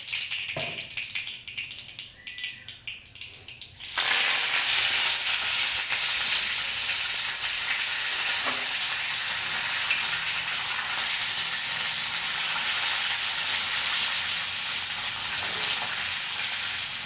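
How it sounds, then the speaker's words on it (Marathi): Cumin and mustard seeds hit hot oil in a kadhai for a tadka, bursting into a loud, steady, close sizzle that starts suddenly after a few quiet seconds and holds without letup, with no talking. "कढईमध्ये मी तेल टाकलेलं आहे. मस्त जिरे मोहरीची फोडणी देणार"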